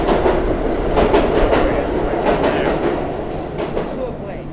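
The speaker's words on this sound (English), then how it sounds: "You hear the New York subway down below us." A New York subway train rumbles below street level, a loud continuous roar with rhythmic clattering of wheels that slowly fades slightly toward the end.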